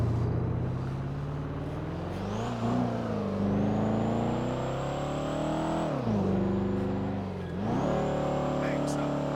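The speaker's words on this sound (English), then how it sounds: "We know that truck is coming back here, Chad. I recognize that as a tool truck." A tool truck drives past close by, its engine note rising and falling with a steady rumble and revving swells over roughly nine seconds, with people talking underneath.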